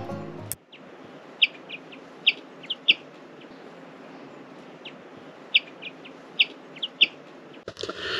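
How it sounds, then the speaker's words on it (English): Short, sharp bird calls ring out a few times over a steady outdoor hush at a viewpoint on a Madeira levada hike, with a brief bump near the start and end. "There's quite a few birds also living here at the viewpoint that you can feed"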